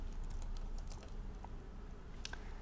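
Typing on a computer keyboard, a quiet run of light key clicks spread across a few seconds over a low steady hum, with no voice.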